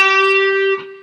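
Distorted electric guitar playing a bend in a riff: a single loud, sustained bent note rings for most of a second, then cuts off sharply and leaves a short fading tail.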